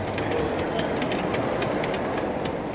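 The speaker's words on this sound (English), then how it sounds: "here comes the train that is starting going around the tracks here" A model train runs on the tracks of an outdoor garden railway, making a steady rolling rumble with faint rhythmic clicks from the wheels and no voices.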